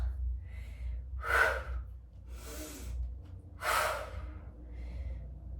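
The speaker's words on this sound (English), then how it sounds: "Exhale, inhale, exhale, inhale." A person exercising during a dumbbell upper-body workout breathes audibly, with four or five distinct airy inhales and exhales in a slow, even rhythm over a low background hum.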